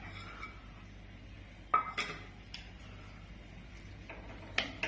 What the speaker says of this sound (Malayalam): അതിലേക്ക് നമുക്ക് ഈ നാളികേരം ഇട്ടിട്ട് ഒന്ന് നല്ലപോലെ വറുത്തെടുക്കാം.